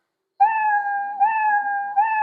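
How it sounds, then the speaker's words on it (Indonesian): A cartoonish cat meow, one drawn-out, clean tonal call with slight pitch bumps, loud and alone against silence. "Kemudian di bawah sini ada mainkan suara meow."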